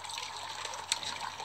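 Water trickles and splashes steadily in a homemade solar fountain, a continuous close-up babble with one brief brighter drip.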